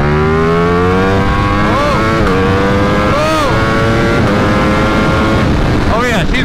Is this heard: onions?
no